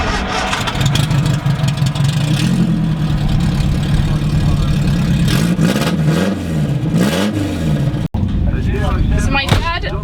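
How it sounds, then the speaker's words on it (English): A 1967 Singer Vogue race car's naturally aspirated engine on twin Weber carburettors idles and revs loudly and throatily, rising and falling through several blips, while a person talks over it near the end. "So it sounds it's a naturally aspirated engine,"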